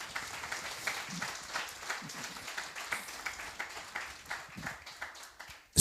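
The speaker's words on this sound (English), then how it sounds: "I think that deserves a round of applause" Audience at a business talk on entrepreneurship gives a round of applause, a soft, fairly distant patter of scattered claps with individual hand strikes audible in an uneven rhythm.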